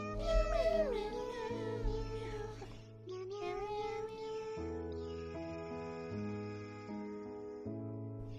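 A cat meows with a rising, drawn-out call over steady background music, quiet and close.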